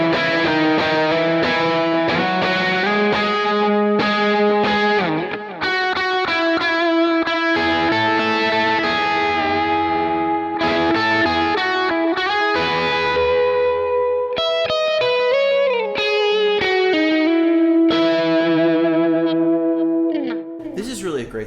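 Electric guitar played through a gained-up AC30 amp profile on a Kemper, with chords and single notes ringing with crunchy distortion and a chorus-like shimmer, loud and continuous with tremolo, no voice over it.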